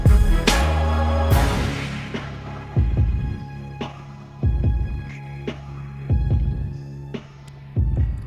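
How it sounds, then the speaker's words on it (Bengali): An electric sewing machine stitches a Pathani suit sleeve to the body. Its motor hums and throbs in short close-up bursts, with several stop-start runs separated by brief pauses and no voices. "দেখুন সেমভাবে আমরা এটা সেলাই করে নেব।"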